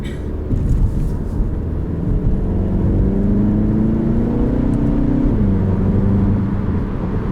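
A Volkswagen MK7 Golf GTI with DSG automatic accelerating, its loud engine drone rising steadily in pitch through a gear, then dropping and climbing again, heard close from inside.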